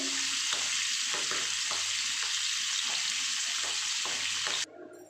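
Close, continuous crackling sizzle of bata fish pieces frying in hot oil, with soft pulsing spatters, cutting off abruptly just before the end.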